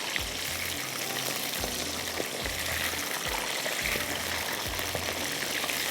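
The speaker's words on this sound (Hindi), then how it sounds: "ऐसे इसको थोड़ा फ्राई करने में बहुत ज़्यादा तेज़ आग नहीं की हुई" Tomatoes and other vegetables sizzle gently in a pan over low heat, a continuous soft hiss and crackle with occasional low thumps from handling, no voice present.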